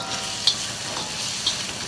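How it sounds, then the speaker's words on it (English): Rice stirred into meat frying in a pan for Lao-style fried rice, a steady close sizzle with two soft scraping stirs and no talk. "I'm gonna add the rice."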